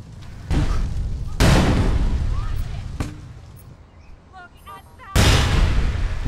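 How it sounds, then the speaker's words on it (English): Grenade explosions in the online shooter APB Reloaded: three loud, booming blasts with long rumbling tails, one sharp crack between them and faint game sounds in the lulls. "Grenade! Oh, more grenade."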